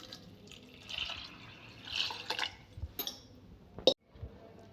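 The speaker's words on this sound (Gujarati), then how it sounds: "હવે આપણે ઘઉંને બાફવા માટે આપણે આશરે 3 ગ્લાસ જેટલું પાણી રેડીશું" Water is poured from a glass onto wheat grains in a cooker pot for boiling, about three glassfuls. It makes an irregular, moderately loud splashing and trickling close by, ending in a sharp clink and a short drip.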